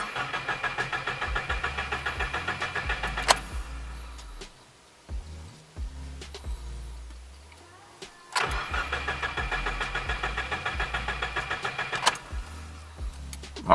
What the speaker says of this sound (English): We're going to crank it like 5 or 10 seconds and then do it twice.